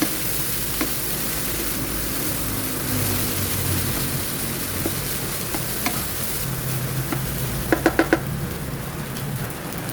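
Leftover cooked rice and corn are stirred together in a frying pan, giving a steady close sizzle with spatula scrapes throughout and a quick burst of metallic clinks near the end. No one speaks.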